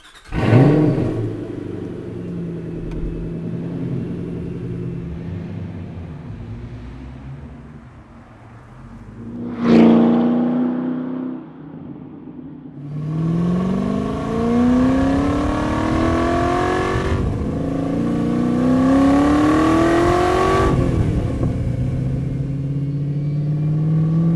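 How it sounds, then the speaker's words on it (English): A 2005 Ford GT sports car drives by with a rumbling engine, a sharp rev burst near the middle, then repeated strong accelerations rising in pitch and dropping back between gear changes, loud and close. "Today I'm driving a 2005 Ford GT."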